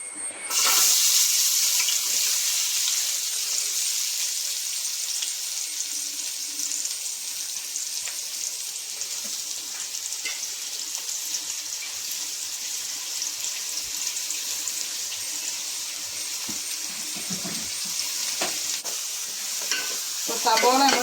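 Onion fries in hot sunflower oil for beef cutlets: after a sharp hiss as it hits the pan, a steady, loud crackling sizzle continues, with brief stirring noises and no speech.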